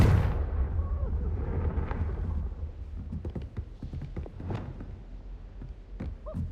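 A Confringo spell blast in the Hogwarts Legacy video game: a heavy booming burst opens the clip and decays into a rumbling tail, followed by scattered sharp crackles and pops, at a fairly low overall level.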